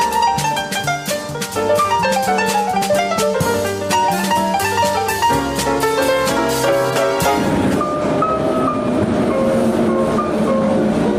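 A metro train pulls into the Multikultural station, its rumble and rail clatter running continuously beneath a loud song playing over the platform, with the music dominating the sound.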